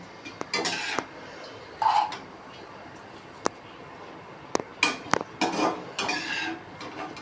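Almonds roast in a pan while a metal spoon stirs them, giving intermittent scraping rattles and clinks against the pan, close and fairly loud, with quiet pauses between strokes.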